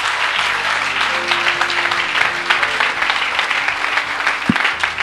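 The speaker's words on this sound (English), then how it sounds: "Somebody keep clapping for Jesus." A church congregation claps loudly and continuously in a dense wash of hands, with faint tonal sounds running low beneath it and a sharp thump near the end.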